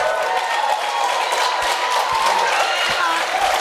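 Audience at a Wisconsin 1st Congressional District debate applauding and cheering, a dense, loud, sustained wash of clapping and crowd noise with voices mixed in.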